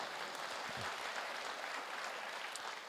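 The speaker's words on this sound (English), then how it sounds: "You can clap for her." A crowd at a political conference applauds, a dense continuous patter of many hands clapping for a few seconds, steady and fairly distant.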